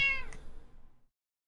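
A single clear, close cat meow sounds at the start and trails off into silence within about a second, with no voices.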